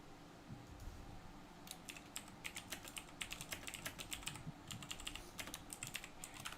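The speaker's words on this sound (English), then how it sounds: "I hear keys being typed." Rapid bursts of keystrokes on a computer keyboard, close and fairly quiet, clattering in uneven clusters against a low room hum with no talking.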